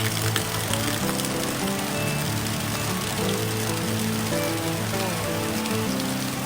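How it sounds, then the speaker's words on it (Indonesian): Steady rain pours over a tea plantation on a hillside hiking route, a dense continuous hiss with a low rumbling undertone and no voices. "karena tadi masih hujan, jadi kita menepi sebentar sembari menunggu hujannya reda"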